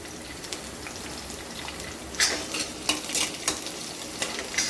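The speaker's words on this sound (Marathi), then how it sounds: "थोडी परतून घ्यायची आपण छान." Green chilies sautéing in a pan for a fenugreek bhaji, a soft steady sizzle broken by several sharp stirring scrapes and clinks in the second half, close and moderately loud.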